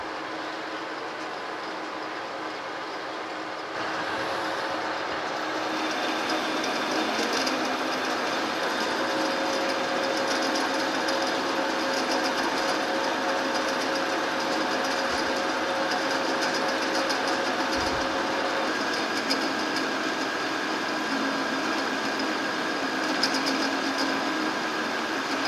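A metal lathe turns down a new shaft for a New Haven metal planer under restoration, taking a 50-thousandths cut. A steady mechanical whir and hum grows louder after a few seconds and holds evenly to the end.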